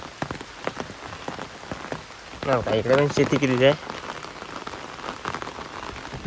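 Steady rain patters across open farmland where rice has been sown, a continuous wash of drops on the ground and nearby surfaces, with someone talking over it throughout and his voice rising louder midway.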